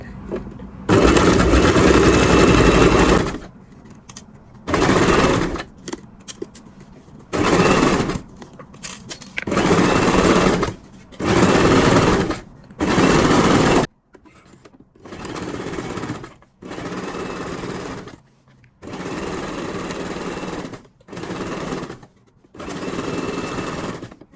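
A sewing machine stitches the fly and zipper of men's trousers in loud, close bursts of rapid whirring, separated by short pauses as the fabric is repositioned.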